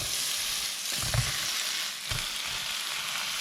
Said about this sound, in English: Let's go ahead and put it in the frying pan with some olive oil and a little bit of butter.